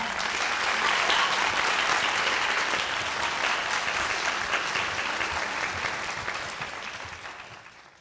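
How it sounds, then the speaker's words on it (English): A school audience at a district literacy competition for kindergarten through second grade claps warmly and densely, loud at first and then slowly fading toward the end. "can we give them a round of applause?"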